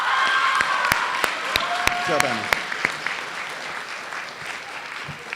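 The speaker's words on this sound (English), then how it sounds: "gets a special round of applause" A banquet audience at a fall athletics awards event gives a round of applause for a young soccer player: steady, moderately close clapping that gradually fades, with a voice briefly calling out over it.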